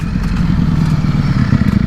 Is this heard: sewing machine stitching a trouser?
no